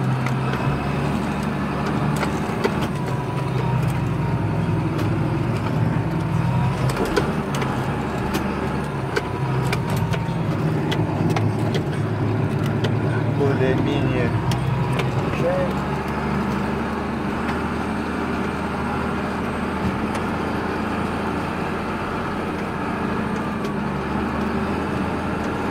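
A tractor rolls along a road toward a field for spring pre-sowing cultivation, slowed to 7, its engine a steady, loud low drone under continuous rumbling road noise, with faint talk over it.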